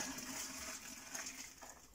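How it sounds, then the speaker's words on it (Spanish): Water is poured from a pot of spaghetti without draining the pasta, a faint continuous splashing trickle lasting about two seconds that fades slightly toward the end. "Simplemente vierto el agua,"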